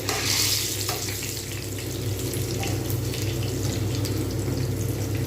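Palm fruit pitha frying in hot oil, giving a steady, dense sizzle and bubbling hiss close by that continues evenly throughout, with no talking.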